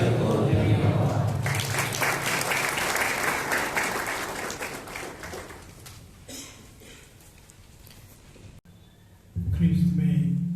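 A church congregation at a Capuchin diaconate ordination claps in a loud, sustained round of applause that slowly fades, then a voice begins speaking.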